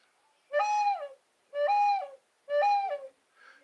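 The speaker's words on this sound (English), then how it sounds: "And it was doves making that sound." Three soft, hollow coos come at a steady, unhurried pace, close by and clear against near silence. A fainter fourth call trails off at the end.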